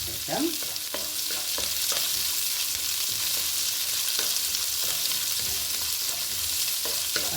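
Chopped onions sautéing in a pan for coriander leaf rice, a steady close sizzle with occasional scrapes and knocks of stirring throughout, no voices.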